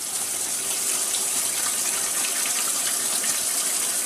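Tap water running steadily into a sink while hands are washed, a continuous close hissing gush with no break.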